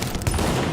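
A dense burst of rapid gunfire from the video game The Division, loud and continuous throughout the brief moment.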